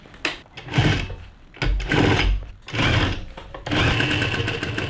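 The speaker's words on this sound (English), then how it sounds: "I'm just doing like a quadruple stitch that I showed y'all on the front of the pant" A sewing machine quadruple-stitches a back pocket onto denim pants, running in about four short, close bursts of whirring stitching separated by brief pauses.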